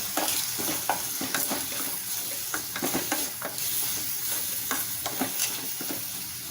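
Tomatoes with a handful of cashews sautéing in a pan for mushroom kuzhambu. A steady sizzle runs throughout, broken by frequent quick scrapes and taps of a spoon stirring close by.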